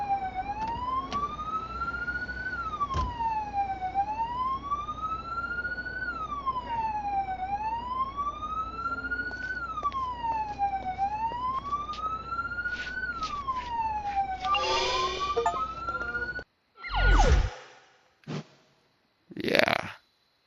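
A police car siren wails loud and continuous in the Police Simulator Patrol Duty video game, rising and falling in steady cycles for about sixteen seconds before cutting off, followed by a few short bursts of other noise.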